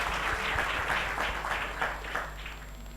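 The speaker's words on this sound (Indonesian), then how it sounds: "Oke, beri aplaus yang meriah untuk Marawis." An audience applauds a Marawis performance, a steady wash of clapping heard at moderate distance that eases slightly toward the end.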